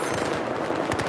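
Rapid automatic fire from an AK-5C carbine in the Battlefield 4 video game, a dense, loud burst of rattling shots lasting about a second, with no talk over it.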